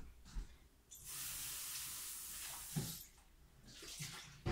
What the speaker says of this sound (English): Rinse out your lye bucket immediately.